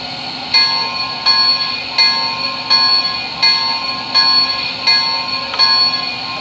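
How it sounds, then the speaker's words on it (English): A small bell on an MTH Imperial 0-6-0 model steam switcher locomotive rings in a steady repeating pattern, about eight bright clangs at even intervals over a constant mechanical hum. "Here's the bell."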